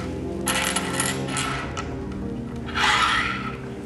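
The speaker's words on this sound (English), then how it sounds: "I want you just to lay the keys out in a row for me from that side to here." A set of keys laid out one by one on a surface in a row, metallic jingles and clinks in a few bursts, the last one loudest, close by with no talking.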